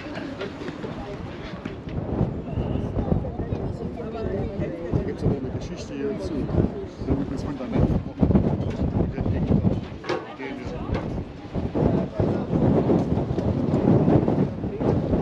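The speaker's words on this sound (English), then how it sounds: "it's windy" Strong gusty wind buffeting the microphone with heavy rumbling bursts throughout at a high lookout in Leipzig, Germany, while a person talks underneath.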